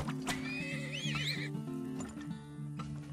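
Horse neighing in the Turmoil video game, a loud, wavering whinny near the start over a steady low background hum, followed by a few soft clip-clop hoof sounds.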